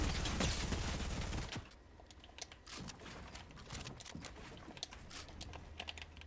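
Gunfire in the video game Fortnite rattles off as a dense, loud volley at the start. It then breaks into scattered, fainter shots and clicks over a low hum.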